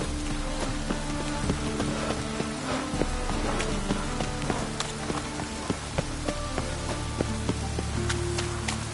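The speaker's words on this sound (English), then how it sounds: "And it's raining again." Rain in The Witcher 3: Wild Hunt pours steadily in a dense, constant hiss, with a horse's hooves clopping faintly underneath.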